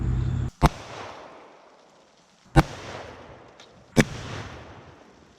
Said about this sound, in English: the Buffalo Bore Plus P Plus shooting water jugs